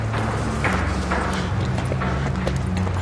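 Horse hooves clip-clop in steady rhythm under a continuous low hum and background din, moderately loud and fairly close, with no voices over them, in a 1919 Birmingham drama.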